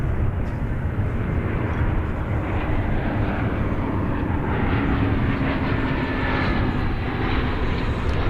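Airplane taking off at DFW Airport, a loud, sustained roar of jet engines from a runway that stays broad and steady throughout, with no voices over it.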